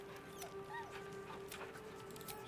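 A dog whimpers softly in Baldur's Gate 3, a short high whine over a steady hum of game ambience and background music.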